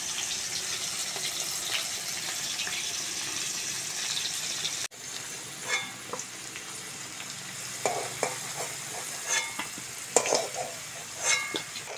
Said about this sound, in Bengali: ওই মাছ ভাজার তেলে কেটে ধুয়ে রাখা আলুগুলোও ভেজে নেব।